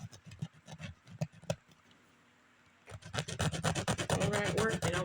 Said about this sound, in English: It's a damn hacksaw. It's supposed to cut through metal.